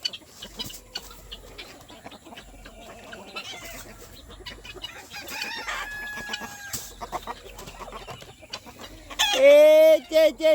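Backyard homestead chickens clucking through the clip, ending with a loud, close rooster crow near the end; voices murmur faintly underneath.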